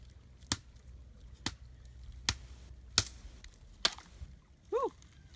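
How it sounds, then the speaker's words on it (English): Stick tapping on the ice of a partially frozen creek: five sharp, hard taps spaced about a second apart, close and crisp against quiet outdoor background, followed by a short vocal sound. "has his stick that he's going to use to tap on the surface"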